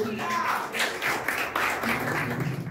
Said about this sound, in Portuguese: Em nome de Jesus, as palmas louvam ao Senhor.